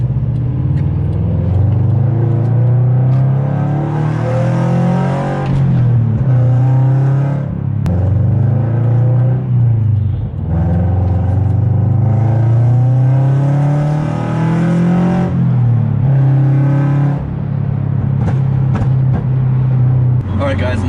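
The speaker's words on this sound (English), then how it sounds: "I'll finish this video off with a couple accelerations" A Subaru BRZ engine drones loudly from inside the cabin, rising in repeated acceleration pulls with brief dips at gear changes, its low steady hum dominating throughout.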